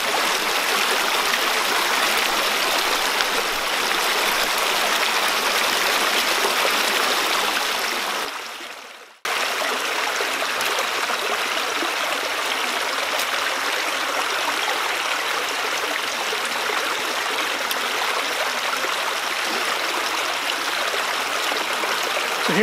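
Fast-flowing stream with waterfalls rushes in a steady, loud broadband wash, close by, with a brief dip partway through before the same continuous roar resumes; no voices.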